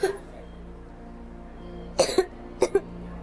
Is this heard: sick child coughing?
yes